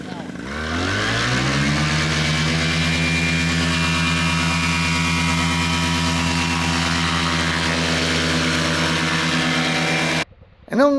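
A paramotor engine spins up within the first second and holds a loud, steady, buzzing drone at close range through takeoff before cutting out suddenly near the end.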